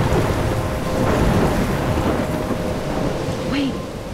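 Loud thunderstorm in Life is Strange, dense heavy rain roaring continuously with deep thunder rumbling through it, close and enveloping.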